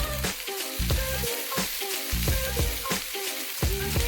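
Chili powder seasoning is mixed into a hot pan of vegan enchilada filling, with a constant close sizzle and music with a steady rhythm playing alongside.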